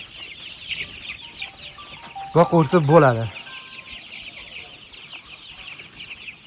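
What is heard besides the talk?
young black Andijan chicks clucking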